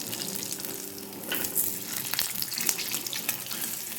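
Bhola fish chops fry in hot oil with a lively, crackling sizzle, close by. Occasional clinks and stirring scrapes pop out above the steady bubbling, and no one speaks.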